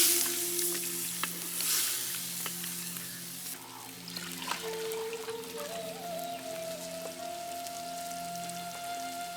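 Chili and coriander paste stirred into water, added to sizzling Kadaknath chicken curry in a pan, giving a soft, steady crackle and hiss near the microphone, with faint clinks and tonal background noise.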